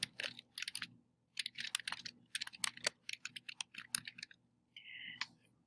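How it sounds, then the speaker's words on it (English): Bursts of typing on a computer keyboard, quick clicky keystrokes in short runs separated by brief pauses, close and fairly quiet, with no talking. "I'm going to type that."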